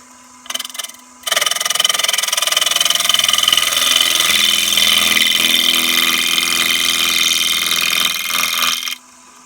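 A machine cuts a lens blank from scratch, with a loud, continuous grinding chatter that runs for about eight seconds after a brief start, coarse and buzzing throughout, then stops abruptly.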